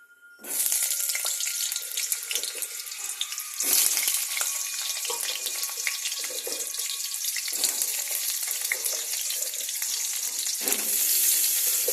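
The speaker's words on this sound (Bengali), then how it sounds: "আলুগুলো যতক্ষণ ভাজা হচ্ছে" Potatoes fry in hot oil in a pan, giving a loud, continuous, close crackling sizzle with brief stirring scrapes and no talking.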